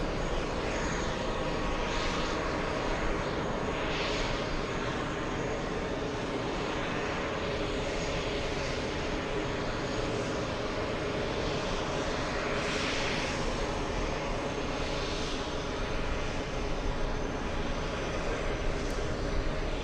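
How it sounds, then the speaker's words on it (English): An Airbus A330 jet airliner comes in to land on runway 22 right, its engines roaring loud and steady throughout with a broad, sustained rumble and no pauses. "Let's go for the big A330 on 22 right."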